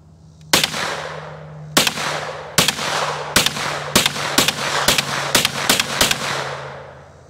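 Citadel Boss 25 shotgun fired at an outdoor range with slug, buckshot and birdshot loads, nine loud sharp blasts, widely spaced at first and then coming faster, each followed by a short echo.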